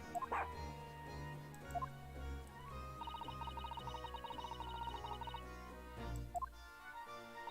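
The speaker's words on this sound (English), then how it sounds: "She's got her dog now" A dog in The Great Ace Attorney Chronicles video game barks and whimpers in short yips over a steady game music bed, with a rapid run of small high tones in the middle.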